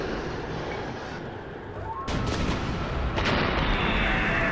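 Cannon fire in a pirate adventure film, muffled booms breaking in after a quiet stretch with a broad blast around two seconds and another after three, moderately loud over a noisy background.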